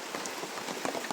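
Rain falls steadily onto surfaces nearby, a dense patter of drops with a few sharper splashes, with no voices present.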